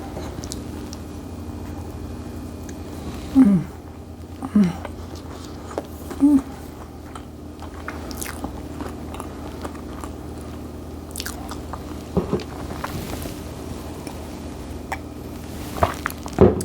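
Bites into a moist pumpkin crumb cake muffin with a cinnamon crumb topping, a few soft separate bites followed by quiet chewing, close up over a low steady background hum, with no talking.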